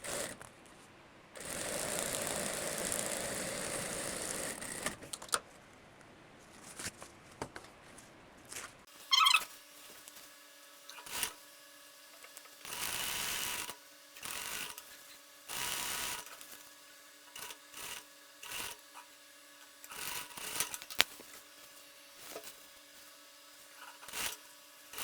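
Domestic sewing machine stitching the centre back seam of a garment lining for a long vest, heard in several short bursts of whirring with pauses and fabric handling between them, moderately close and without talk.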